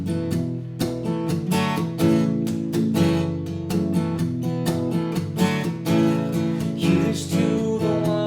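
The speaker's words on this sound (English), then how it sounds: "and for that I kind of have a more palm muted, chunkier feel to my strumming" An acoustic guitar strums a worship song with a palm-muted, chunky feel. Steady, close strums keep a driving rhythm throughout with no voice.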